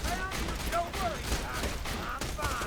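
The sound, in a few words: gunfire in video game Borderlands 2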